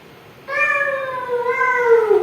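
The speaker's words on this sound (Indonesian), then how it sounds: "kucing" One loud, long cat meow that wavers and sags in pitch, close and clear with no talking.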